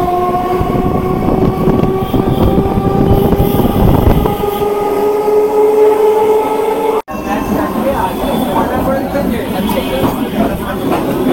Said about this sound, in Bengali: কোন্নগর ট্রেনটি ছেড়ে দিল।